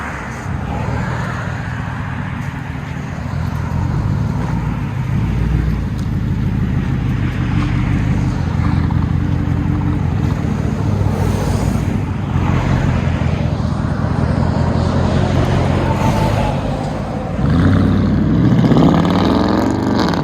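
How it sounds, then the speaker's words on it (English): 2010 Ford F-150 with a 5.4L Triton V8 and true dual straight-pipe exhaust with 6-inch tips, a loud, close, deep rumbling drone that holds steady for a long stretch, then swells sharply near the end. "True dual straight pipe Ford F-150,"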